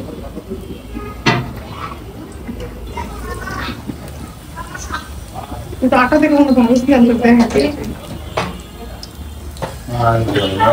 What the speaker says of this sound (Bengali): এখন ভাজা শুরু করে দিচ্ছে